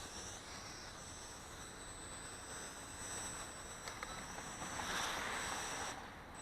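A Fayee FY550 quadcopter drone flying and doing flips, its rotors giving a steady high whirring buzz that swells and fades as it maneuvers.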